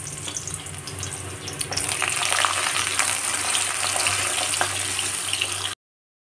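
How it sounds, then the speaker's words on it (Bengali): Potatoes and raw banana frying in oil, a steady crackling sizzle that swells louder after a quieter start and runs continuously with faint scraping, then cuts off abruptly. "প্রথমে আমি আলুগুলো আর কাঁচা কলা দিয়ে লাল লাল করে ভেজে নেব।"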